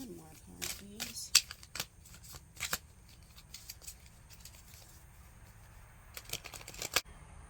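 Tarot cards being shuffled during a reading, quick papery riffles and soft flicks in short bursts, with a quiet voice talking in between.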